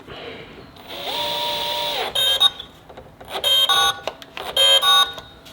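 A power screwdriver set to torque 6 tightens a jumper on the terminal block of an IKEA cooktop, with a steady whirring hum first and then a series of short, loud, buzzing bursts as the screw is driven and the clutch catches.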